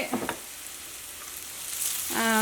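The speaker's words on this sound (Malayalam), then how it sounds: "നമ്മുടെ സവോള ചെറുതായിട്ട് മൊരിഞ്ഞ് തുടങ്ങിയിട്ടുണ്ട്." Onions sizzle steadily in a hot pan, a soft continuous frying hiss with a few light clinks.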